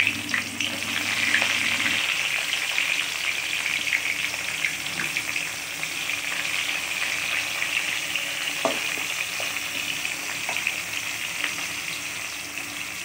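Sliced onions sizzle steadily in hot oil for a home-made kurma, a loud, continuous crackling hiss with faint stirring clinks and no voices.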